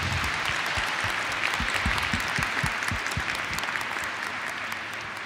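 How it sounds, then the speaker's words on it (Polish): A crowd applauds children after their singing at an outdoor Christmas tree event, steady mass clapping with a few sharper individual claps standing out near the front, gradually fading toward the end. "Brawa dla dzieci przede wszystkim"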